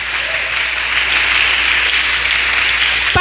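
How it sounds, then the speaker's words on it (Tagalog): A church congregation at a midweek worship service breaks into loud, sustained clapping, a dense steady wash of many hands that fills the whole stretch without pause. "Sige pa, palakpak."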